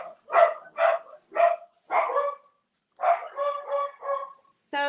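A dog barks in a quick string of about eight loud, close barks, with a short gap partway through, then a higher squeaky yip at the very end; no one talks during the barking.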